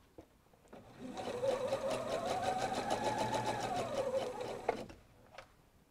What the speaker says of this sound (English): then I'm just going to sew down here, taking the pins out before I sew over them